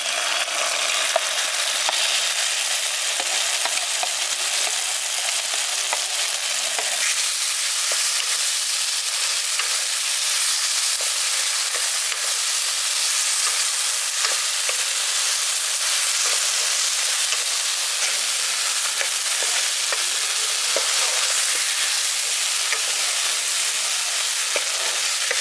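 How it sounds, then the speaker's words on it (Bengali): Tomato, garlic, onion and green chili fry in a pan for a village-style tomato bharta, a dense continuous close sizzle with steady hiss and occasional crackling pops throughout, no voices. "দেখুন এখানে টমেটোটা, পেঁয়াজ আর লঙ্কা খুব ভালো করে আমি ভাজা ভাজা করে নিয়েছি"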